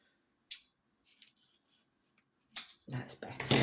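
Scissors cut through paper while a personal almanac is being assembled: a sharp single snip, a few faint clicks, then a denser burst of close cutting and paper rustle near the end.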